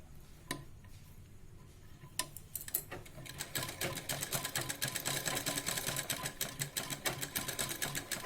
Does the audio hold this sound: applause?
no